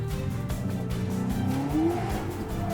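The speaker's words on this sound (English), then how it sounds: "The air brake deploys. Deceleration as violent as the launch." A Bugatti Mistral W16 roadster sheds speed hard with its air brake deployed, the engine note falling and a brief tire squeal rising over a steady rushing roar.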